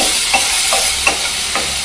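Green chickpeas roasting in a pan give a steady close sizzle, with a few soft scraping stirs spaced evenly over the hiss.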